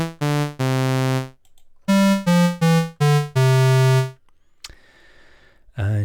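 Bright, buzzy sawtooth wave tones from an analog oscillator on the Thor synthesizer in a short series of sustained notes, harmonic-rich, then a brief noisy burst and a low thump.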